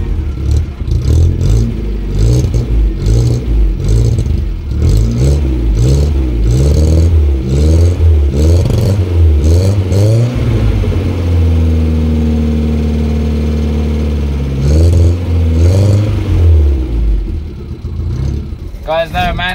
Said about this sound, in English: here's a cold start for you guys and a little rev before we get the new exhaust on.